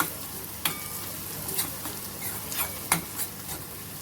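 Sliced onion frying in a pan with curry leaves for a raw banana curry, a soft continuous sizzle broken by occasional scrapes and knocks of a spoon stirring against the pan.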